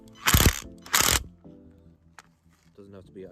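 A ratchet tightening a bolt on a Hyundai i30N rear lower engine mount fitted with a Powerflex bush gives two loud, close bursts of rapid clicking, followed by someone speaking.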